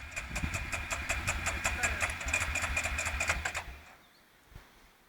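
A tracked vehicle's engine turns over after crossing a ditch, a close, rapid rhythmic cranking pulse lasting several seconds before it cuts off into quiet.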